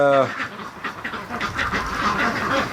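A short, nasal quack from a duck being raised on a property opens the clip, then gives way to a person talking over faint, scattered farmyard background noise.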